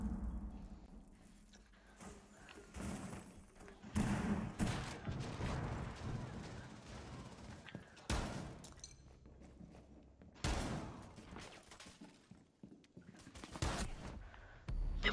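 Gunfire breaks out in Rainbow Six Siege as sharp shots and short bursts crack at irregular intervals over a quiet background, some of them loud and close, others fainter thuds.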